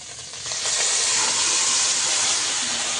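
Bottle gourd goes into a pan of shrimp frying in oil with cumin, setting off a loud, steady steaming hiss and sizzle that swells after half a second and holds strong to the end.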